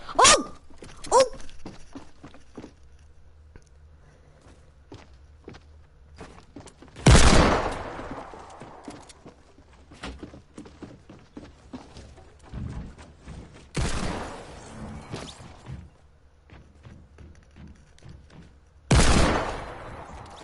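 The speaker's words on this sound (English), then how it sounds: "Did he just shoot me through the wall?" Video game gunfire: several loud, close bursts of shots spread apart by quiet stretches, with lighter clicks and footstep-like taps in between.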